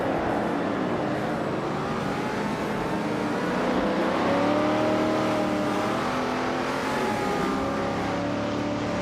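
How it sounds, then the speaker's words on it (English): Race cars, including a vintage 1972 Lamborghini Jarama S, race at the Yas Marina circuit with a continuous loud engine roar and rising and falling revs as cars sweep past, no voices heard. "the race is underway at Yace Marina GP, and leading the pack is Scott Dixon, in a vintage 1972 Lamborghini Jarama S"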